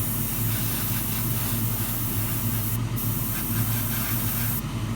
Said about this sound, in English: So let's get some paint on that. Light mist coats again on this.